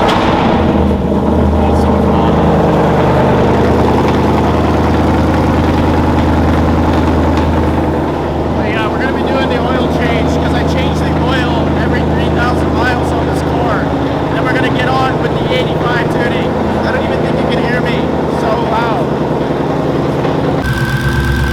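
A Whipple-supercharged Mustang GT on E85 starts with exhaust valves open, running with a rough, throaty idle that shifts partway through into a louder, rattling exhaust note, steady and close.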